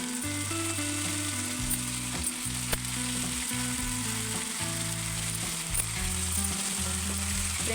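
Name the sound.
ridge gourd frying in tempering oil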